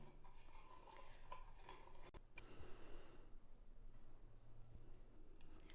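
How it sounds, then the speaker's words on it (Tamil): A spoon faintly swirls hibiscus tea mixed with sugar and lemon juice, giving soft liquid stirring with a few light clinks against the vessel, quiet and close with no voices. "சேர்த்துட்டு நல்லா கலக்கி விடணும்"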